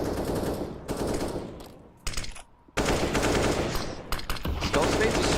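Rapid automatic gunfire in a Counter-Strike pro match, sustained loud bursts broken by a short lull and a sharper burst, with a commentator's voice underneath.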